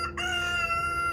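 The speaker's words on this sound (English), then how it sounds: "Mellow rooster." A calm rooster crows in one long, loud, sustained call close by, with a steady background hum of a poultry yard.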